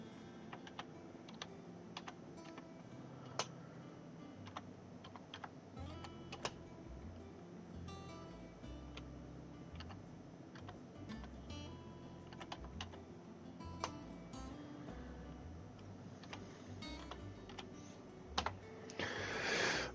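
Quiet, steady typing on a computer keyboard, with rapid irregular key clicks and occasional heavier taps, close up against a faint background of game sound.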